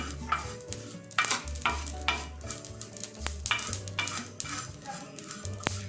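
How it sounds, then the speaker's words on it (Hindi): Cumin and ajwain seeds dry-roasting over a low flame in a pan, with steady soft sizzling and repeated scraping strokes of a spoon stirring, plus a few light metallic clinks, close and continuous. "अब इसमें 1 टीस्पून अजवाइन शामिल करें। इसको भी हल्का सा भून लें।"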